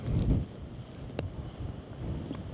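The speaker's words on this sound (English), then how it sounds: "Back on the tops, and uh, it's pretty windy today" Gusty wind buffeting the microphone outdoors, low rumbling roar rising and easing, with a faint rustle.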